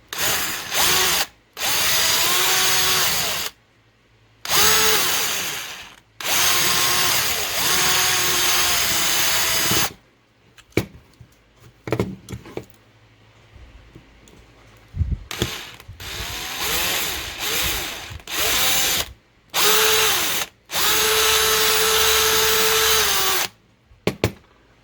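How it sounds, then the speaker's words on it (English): A power drill whines loudly in several long bursts with short pauses, drilling out the rivets of a diecast toy car, its pitch shifting as it bites into metal, with clicks and rattles between runs. "So I'm going to drill out the rivets."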